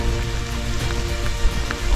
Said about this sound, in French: Direction Cajarc avec cette pluie